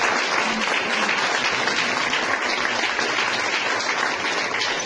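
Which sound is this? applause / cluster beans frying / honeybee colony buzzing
applause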